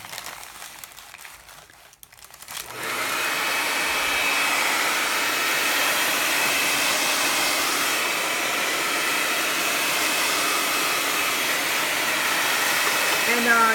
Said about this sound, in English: I'm going to blow dry it really quickly